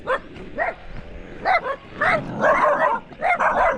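Several dogs bark and yip on a street in the Philippines, repeated sharp barks in bursts, fairly close and loud, with no talk over them.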